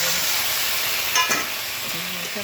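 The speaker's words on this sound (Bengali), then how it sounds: "দেখো মশলাটা ভাজা ভাজা হয়ে গেছে সব মাছগুলো দিয়ে দেবো" A continuous loud sizzle of rohu fish frying in spice paste in a pan, with a brief clatter of stirring midway and no talking.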